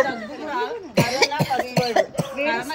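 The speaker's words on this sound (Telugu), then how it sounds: "దగ్గు వస్తుంది." A person coughs several times in short, sharp bursts during a family word-guessing game, the coughs interleaved with a voice speaking close to the microphone.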